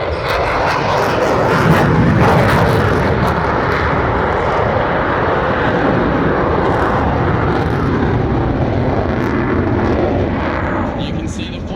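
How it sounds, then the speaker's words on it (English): F/A-18 Super Hornet fighter jet performing at an airshow, a loud continuous roar of jet engines that swells early and holds steady throughout, with no talk over it. "Controls hard at work as the jet squats and rolls inverted."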